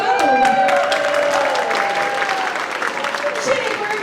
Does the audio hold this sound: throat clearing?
no